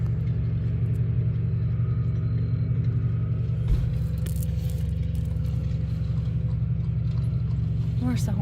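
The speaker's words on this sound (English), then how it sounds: "I hear horse hoofs." Horse hooves clip-clop along a road in an even, rhythmic beat over the low rumble of a nearby pickup truck with new tires.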